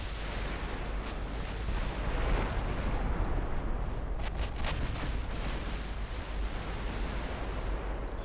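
A battleship's secondary guns fire in a naval battle in Ultimate Admiral Dreadnoughts, with a steady roar of gunfire and distant booming blasts and a few sharper reports standing out from the dense background.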